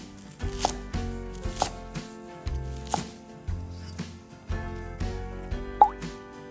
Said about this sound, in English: Cut the scallion and coriander into small sections.